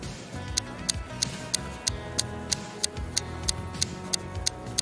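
A wall clock ticks steadily at a regular pace, sharp evenly spaced clicks heard clearly over a soft background music bed, with no talking.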